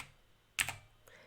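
A short burst of two or three close keystrokes on a computer keyboard, sharp and loud against a quiet room, followed by a fainter tap.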